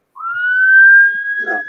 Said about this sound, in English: I'm sorry about the siren noise.